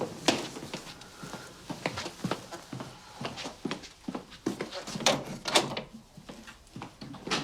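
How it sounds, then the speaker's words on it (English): Indoor door in a domestic drama scene opened and shut, a series of soft knocks, clunks and rattles spread across several seconds at moderate distance, no talk. "Did I hear the door?"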